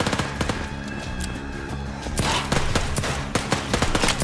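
Rapid bursts of gunfire in the video game Overkill's The Walking Dead crackle in quick succession, sharp and loud, growing denser in the second half, with no voices.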